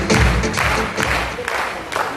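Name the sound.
audience applause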